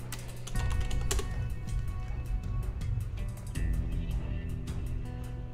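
Steady clicking of a computer keyboard carries on throughout, with quick irregular keystrokes and a few sharper taps, close and fairly quiet, as someone types a name into a search on a computer.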